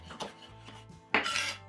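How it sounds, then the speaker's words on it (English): A knife slices roughly through peeled ginger on a cutting board, giving a few soft, quiet chops spaced apart with a sharper final cut. "Ginger all peeled, just slice it."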